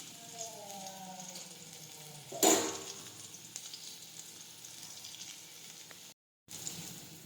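Grated ivy gourd sambharo frying in a pan gives a soft, steady sizzle, with one louder splash or stir partway through and a brief dropout near the end.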